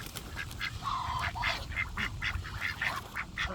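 Ducks being fed quack and honk in a steady, noisy chatter at close range, the calls overlapping in quick bursts over outdoor background rumble.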